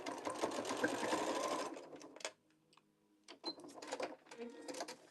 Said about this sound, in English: So I'm going to sew this down.